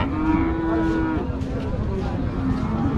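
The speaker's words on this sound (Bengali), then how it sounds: "এটা একটা 3 মণ ওজনের একটা ষাঁড় গরু," A bull of about three maund at a cattle market in Rajshahi gives a loud, drawn-out moo close by, followed by shorter lowing calls, with market noise underneath.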